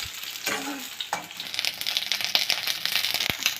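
Onions fry in a pan for a pasta dish, a steady crackling sizzle with occasional stirring scrapes and taps, close and moderately loud.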